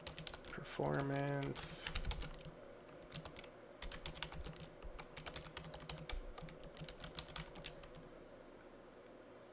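Quick, fairly faint clicks of typing on a computer keyboard come in irregular bursts, following a short electronic tone at the start. A voice speaks briefly over the keys.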